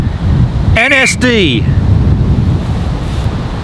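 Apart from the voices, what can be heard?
strong wind outdoors on a microphone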